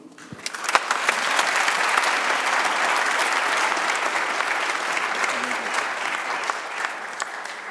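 Congress audience at a closing ceremony in Luxembourg bursting into applause that swells quickly and stays full and loud, with some sharper individual claps standing out.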